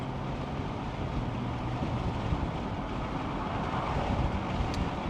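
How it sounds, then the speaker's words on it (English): Steady wind rushes and buffets with a low, rumbling roar while driving an Acura MDX, constant and fairly loud, no voices. "It's a really windy day today too"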